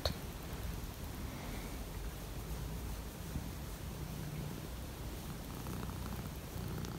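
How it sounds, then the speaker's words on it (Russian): A domestic cat purrs close to the microphone on a cold morning: a continuous soft, rumbling purr at steady low volume with faint background hiss and no talking. "Да, молодец, хороший кот."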